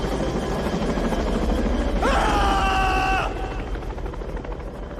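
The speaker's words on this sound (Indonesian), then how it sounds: "sebuah helikopter lewat dan membuatnya ketakutan" A helicopter passing in a film scene, heard as a rising whine with harmonic tones that swells for about a second, then fades over a steady rumbling background.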